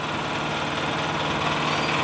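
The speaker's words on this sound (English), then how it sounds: "This compressor made by a company in West Virginia called American Airworks" An American Airworks air compressor, retrofitted from a gasoline engine to an electric motor, runs with a steady mechanical drone and hum, close and unbroken.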